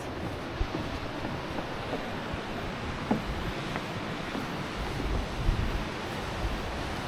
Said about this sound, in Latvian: Ūdenskritums tāds pavisam maziņš, bet tomēr ir lejā.